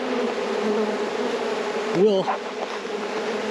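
Honey bees buzz steadily around a hive at close range, a constant droning hum with a fluttering tone. A voice speaks briefly partway through.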